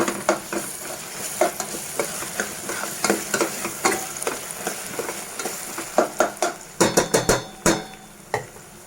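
Ginger garlic paste frying in a pan for a prawn and okra curry, a steady close sizzle broken by regular clacks and scrapes of a spoon stirring against the pan, growing sharper toward the end.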